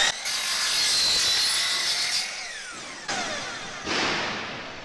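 A compound miter saw cutting pipe at an angle: a loud, close, sustained whining cut that winds down, followed by shorter bursts of grinding and rasping as the blade works through the pipe.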